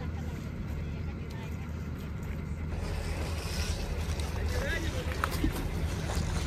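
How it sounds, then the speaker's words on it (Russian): Boat moving along the Aldan river, a continuous low rumble and wash of water with wind buffeting the microphone, steady and close for the whole stretch, with faint voices in the background. "Дальше плывем на лодке."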